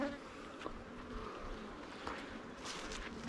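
Honeybees hum steadily at an open hive during a waggle dance, a close, continuous insect drone that holds at a low, even level throughout with no talk.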